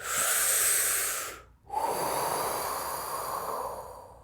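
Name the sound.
deep, long, slow breathing demonstration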